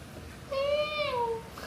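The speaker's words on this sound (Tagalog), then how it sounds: "Yung pusa." A housemate's cat gives a single drawn-out meow, clear and fairly close, rising then falling over about a second against a quiet room.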